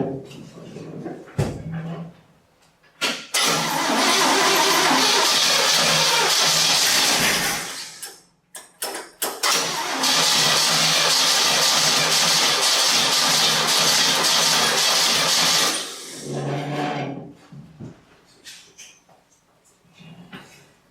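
Swap-meet engine in a barn-find 1967 Chevy C10 Stepside cranking and catching into two loud, rough running bursts, broken by a sputtering stall between them, then dying back to quiet.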